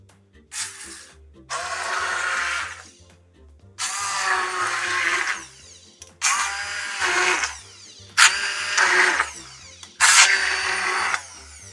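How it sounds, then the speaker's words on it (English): An immersion blender whirs in repeated short bursts, about five pulses with brief pauses, loud and close as it purees thick squash. "We're going to get our immersion blender."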